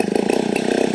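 A chainsaw engine runs at a steady, rapid buzzing idle, close and moderately loud, in a brief burst with no voices.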